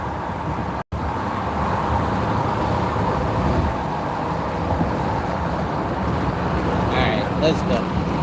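A rear-wheel-drive car moves through highway traffic, with a steady, loud road and engine rumble throughout and no clear voices.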